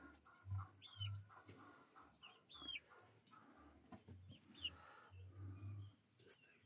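Several roosters in a farmyard give short clucks and squawks scattered through the scene, at moderate distance and fairly quiet, with soft rustling around them and no crowing.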